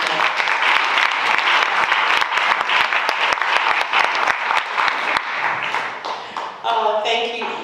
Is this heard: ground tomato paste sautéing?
no